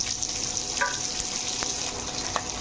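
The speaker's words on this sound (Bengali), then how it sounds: "তেলে পেঁয়াজ দিয়ে দিচ্ছি" Onions fry in hot oil in a pan after chicken has been browned, a steady close sizzle with a few light stirring scrapes.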